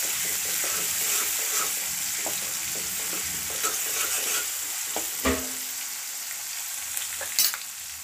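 Ginger paste and turmeric sizzle in a frying pan as a spoon stirs them, a steady close frying hiss with scraping strokes and a few sharper knocks against the pan; no voices.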